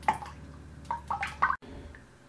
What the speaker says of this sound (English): When you can hear that your filter is dripping rather than the liquid gushing through